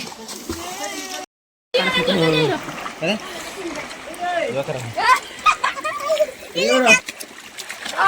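Water splashing from someone swimming at a natural pool near Jog Falls, choppy splashes close by mixed with several people talking and calling out, and a brief dropout near the start.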